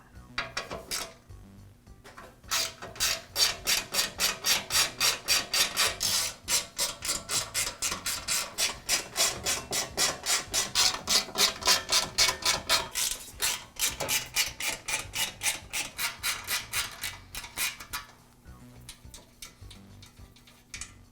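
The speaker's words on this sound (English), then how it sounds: "I'll begin by removing the top cover from the compressor." Rapid ratcheting clicks as a tool backs out fasteners on the top cover of a DeWALT air compressor, a fast rhythmic metallic run lasting about fifteen seconds between brief pauses, close by with no speech.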